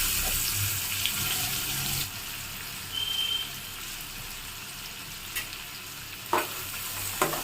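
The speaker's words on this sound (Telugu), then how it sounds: "ఒక ఐదు పచ్చిమిర్చిని వేసుకున్నానండి రెండు బద్దల్లా చీరుకున్నాను వీటిని ఇప్పుడు ఆయిల్లో వేసుకున్నాను" Green chillies slit in half and onion pieces frying in oil in a pan, a soft steady sizzle with occasional clinks and stirring scrapes.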